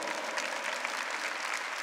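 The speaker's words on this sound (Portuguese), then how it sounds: "Pode aplaudir o Senhor?" Church congregation at a Sunday Mass clapping together, a steady, even burst of many hands in a reverberant hall, moderately loud and sustained with no voices over it.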